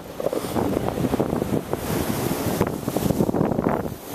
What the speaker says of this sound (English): I think it's very windy out here.